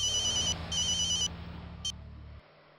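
An electronic telephone ring trills in two bursts followed by a short chirp, heard over a low steady hum.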